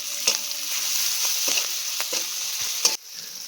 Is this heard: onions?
yes